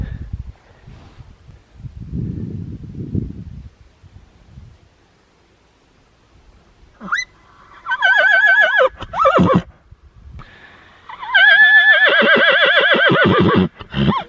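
A horse whinnies loudly and close, two long shrill neighs, following some low rustling and soft thumps.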